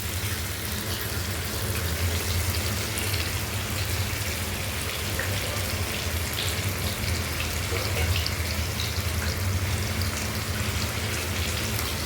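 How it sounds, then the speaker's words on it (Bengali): Meat hitting a hot kadai with cumin and bay leaf already in the oil for chicken kosha, a loud, steady hissing sizzle that holds constant throughout. "এবার আমি এখানে দিয়ে দেবো মাংসটা দিয়ে এটাকে আরও ভালো করে কষাবো।"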